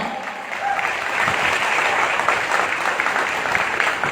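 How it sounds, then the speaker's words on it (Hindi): Loud, dense applause from a crowd welcoming a guest onto a stage at a gathering, a steady roar of many hands clapping that builds slightly and holds without letup. "जोरदार तालियां सुरेंद्र सर के लिए प्लीज वेलकम"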